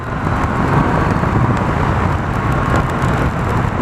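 A Yamaha MT-09 Tracer motorcycle with worn tyres ridden in the rain on UK roads, a loud, constant roar of wind and road noise with no breaks throughout.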